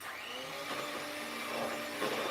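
A steady, droning electric mixer motor whirs continuously at close range, its pitch shifting slightly as it churns batter, with no voices over it.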